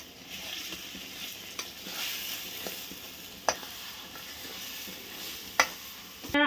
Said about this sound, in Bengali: কাঁচা কলা সেদ্ধ দিয়ে দিলাম একসঙ্গে আমি এখন ভেজে নেব